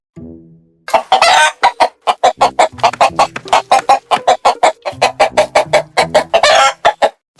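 A rooster lets out a dense, rapid run of loud, close clucks and squawks, bursting into longer crow-like calls at the start and near the end, with no voices over it.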